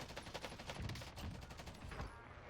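Gunfire in a shooter video game, a rapid burst of repeated shots in quick succession, fairly faint with no talk.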